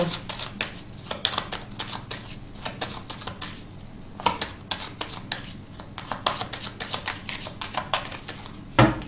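Three cards are drawn from a deck in a card reading, heard as a run of close, crisp slides, snaps and taps in irregular bursts, with a sharp slap at the end.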